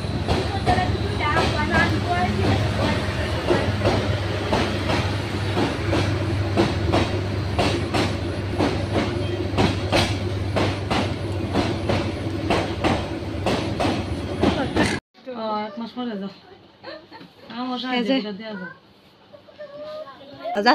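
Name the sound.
train passing by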